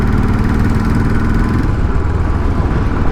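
A Royal Enfield Bullet 500 motorcycle lugs in too low a gear, its single-cylinder engine thumping loudly and steadily at close range.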